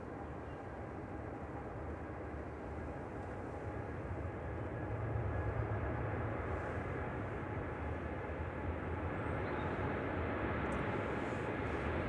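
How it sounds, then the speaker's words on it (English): A Qatar Airways airliner rolls for takeoff at Manchester Airport on a gusty day, a steady distant engine roar that swells slightly midway and holds, heard alone with wind in the background. "there's Qatar on the roll"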